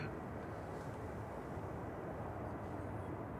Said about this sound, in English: Flight 553 EIDYO departing now, 737-800.